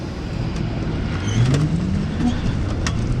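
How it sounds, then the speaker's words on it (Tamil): An SVM Prana electric motorcycle is ridden on the road, a smooth rising motor whine under steady wind and road rush, fairly loud and continuous. "டீலில் நம்ம அந்த வண்டியை ஓட்டுவோம்."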